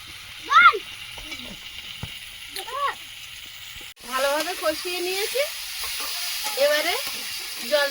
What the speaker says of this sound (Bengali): আলুটা মশলার সঙ্গে ভালোভাবে কষিয়ে নেবো